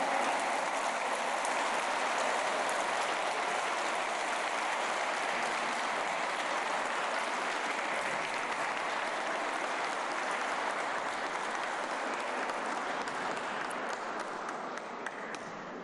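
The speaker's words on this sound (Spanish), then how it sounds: "Brindemos nuevamente un aplauso a las maestras y maestros galardonados." A large audience at a Teachers' Day ceremony in Mexico City applauds award-winning teachers with dense, sustained clapping that stays loud and steady for about sixteen seconds before tapering slightly at the end.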